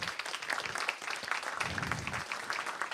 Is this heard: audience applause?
yes